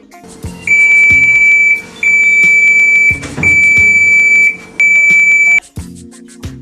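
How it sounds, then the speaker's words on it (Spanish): Main alarm of a portable gas detector at a steelworks, sounding as loud, shrill repeated electronic beep bursts in about four long pulses with brief gaps, close and alone. "Alarma principal al sobrepasar el límite de 75 partes por millón."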